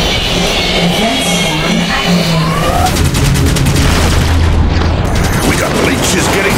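Heavy cannon fire and explosions from the video game Enslaved: Odyssey to the West, loud overlapping booms and rumbling blasts mixed with rapid crackling bursts and whining tones, a dense chaotic battle soundscape.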